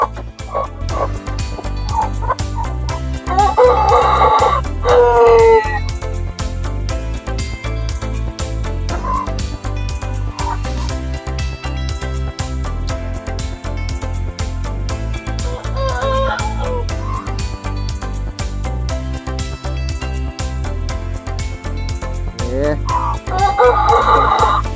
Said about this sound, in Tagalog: Ito po yung may mga sisiw.